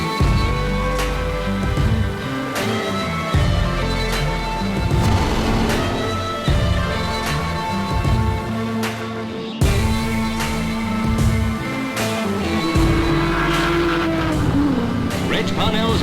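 A vintage Aston Martin race car roars around the Goodwood Revival circuit, a loud sustained engine drone with shifting pitch under steady commentary, with other cars audible in the mix.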